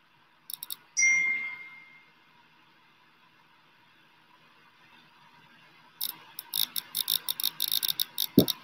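Phone notification sounds: a quick double ding and a lingering chime near the start, a long quiet stretch, then a rapid run of crisp clicking ticks, close and alone with no talk.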